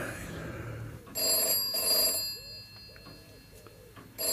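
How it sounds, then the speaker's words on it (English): A telephone bell rings in two short bursts, then a third begins; soft voices murmur between the rings. "The telephone's ringing."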